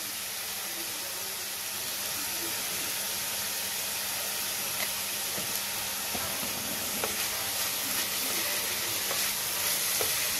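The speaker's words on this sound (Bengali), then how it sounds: "সেরকম তেলটাও ইন্ডাকশনে টকবক টকবক করে ফুটে উঠলো" Vegetables fry in bubbling oil on an induction cooker, giving a steady, moderately loud sizzle and hiss throughout with occasional crackles and stirring noises, and no talk.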